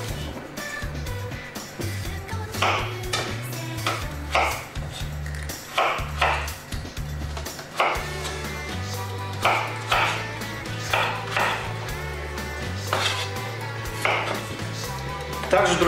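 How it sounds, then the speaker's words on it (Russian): Kitchen knife cutting potatoes into cubes on a board for soup, a series of crisp, fairly regular chops at close range with short pauses between bursts, over faint background music. "Картошку тоже нарежу такими вот удобными кубиками."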